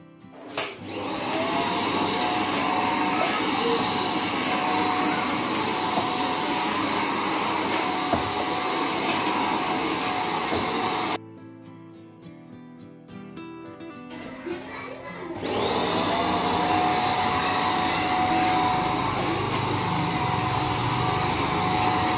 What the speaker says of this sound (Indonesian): kita vakum lagi debu-debu yang ada di lantainya